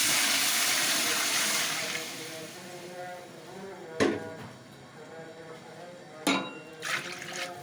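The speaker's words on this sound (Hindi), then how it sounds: "अब इसके अंदर पानी डलेगा।" Water poured into a pot of fried masala for chicken pulao, a steady rushing pour that fades over a few seconds, followed by a couple of sharp clanks of pot or utensil, close up.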